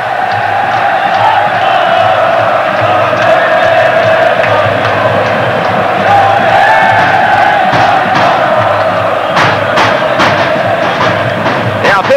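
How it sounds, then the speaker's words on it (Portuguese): Palmeiras football fans fill a stadium with a loud, unbroken roar of cheering and chanting during the 1993 Brazilian Championship semifinal against São Paulo. The sound holds steady throughout with no breaks. "É a vez da torcida do Palmeiras, a do São Paulo fica quieta."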